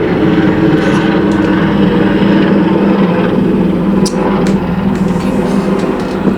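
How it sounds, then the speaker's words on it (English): A steady, droning black helicopter's rotor and engine roar holds throughout, loud and unbroken, as it passes overhead, with no voices. "Black helicopters."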